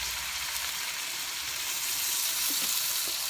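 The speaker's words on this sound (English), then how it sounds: "we will saute this" Vegetables for Kapampangan pinakbet sauté in a pan with a little water, giving a steady, close sizzle and frying hiss throughout with faint stirring and no talk.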